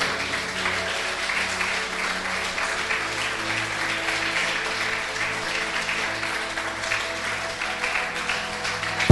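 Steady, dense applause from a church congregation fills the hall, even and sustained throughout with no pauses.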